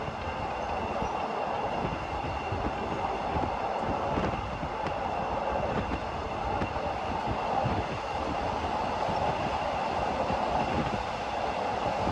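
Passenger train number 135 passes on Thai rails with a continuous, even rumble of wheels and cars, steady and moderately close, no talk over it.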